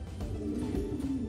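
A racing pigeon bred from an inbred Porsche 911 line crossed with an inbred Picasso line coos in soft, low, repeated throaty pulses, close by over faint background rustle.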